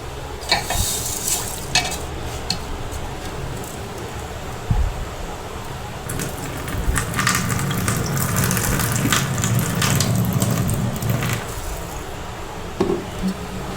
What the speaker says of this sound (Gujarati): હવે આપણે તે પાણી કાઢી નાખીશું।